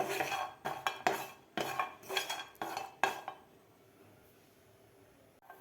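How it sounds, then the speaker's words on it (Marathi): Coconut slices dry-roasted in a pan with no oil, stirred with a metal utensil: a series of sharp scraping clatters against the pan for about three seconds, then near-quiet. "तेल न घालताच आपल्याला हे खोबऱ्याचे काप भाजून घ्यायचे आहेत"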